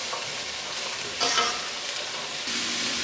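Cottage pie filling with onions is stirred as it fries in a pan, a continuous close sizzle broken by scraping spoon strokes, with no talk.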